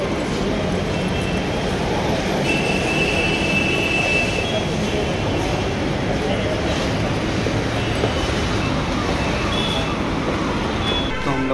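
A Delhi Metro train rumbles at Rajouri Garden station with steady mechanical noise and a faint metallic squeal, while people talk nearby.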